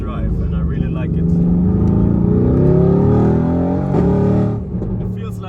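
A Mercedes-AMG GT R engine roars loudly while the car spins donuts, the revs climbing and holding in a sustained, strained howl before dropping off. A voice talks over the engine.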